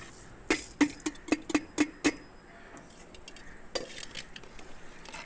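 A spoon stirs rice in a pot of coconut milk pulao with chicken, giving about seven rhythmic metallic clinks against the pot, then softer scraping and stirring.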